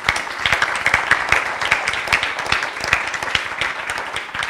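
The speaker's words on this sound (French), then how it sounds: "Moi, je vais demander à ce qu'on vous applaudisse à nouveau, parce que je suis très fier." A school audience applauds the student reporters at a 150th-anniversary celebration, a dense, steady round of many hands clapping close by that carries on evenly throughout, with no voices over it.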